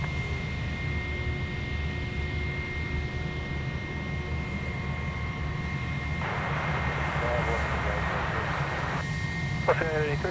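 An Air China jet is heard at night at Sydney Airport, its engine giving a steady broad roar with tonal whine that swells a little in the second half, under a low background rumble.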